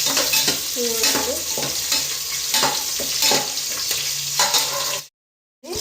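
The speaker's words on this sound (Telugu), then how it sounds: "తాలింపు అయితే పెట్టినాను" Spices sizzling and crackling in hot oil, with a spoon stirring and scraping the pan, steady frying hiss before cutting to silence near the end.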